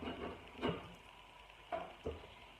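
Sliced onion sizzles faintly in a pan, a soft, low hiss with a few brief clatters and taps over it.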